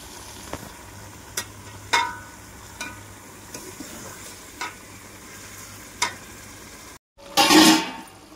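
Chicken coated with salt, chili powder and turmeric frying in oil for a Telangana-style tomato curry, a soft steady sizzle with periodic spoon scrapes and taps, ending in a louder burst of sizzling after a short gap.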